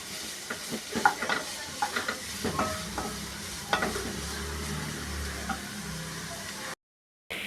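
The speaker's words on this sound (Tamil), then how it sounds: "இப்போ வெங்காயம் கருவேப்பிலை எல்லாத்தையும் நல்லா வதக்கிக்கிறேன்." Onions and curry leaves sauté in a pan over a medium flame until golden brown, giving a steady close sizzle broken by scattered clicks and scrapes of stirring, with no talk before a brief cut to silence at the end.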